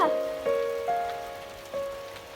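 Hard-falling hail pelts a surface in a dense, steady patter, with a few sharper ringing impacts standing out, close and fairly loud.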